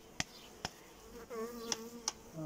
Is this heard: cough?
no